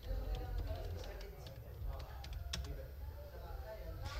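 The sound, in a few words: typing a website address on a computer keyboard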